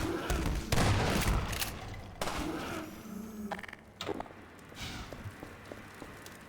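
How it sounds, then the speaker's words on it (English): Sniper fire in Half-Life 2 comes as scattered, sharp gunshot cracks of varying loudness, some close and heavy and others fainter, with clattering between them and occasional speech. "These snipers got me pinned down."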